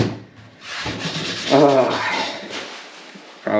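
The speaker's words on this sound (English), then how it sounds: "Probably been sanding for a half hour already." Steady rough rubbing of sandpaper over pallet wood by hand, close up, with long scraping strokes and no voices.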